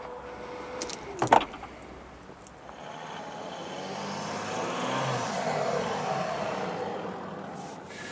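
A door shuts on a 2019 Volkswagen Touareg III with one solid, close thump, followed by a steady low mechanical hum.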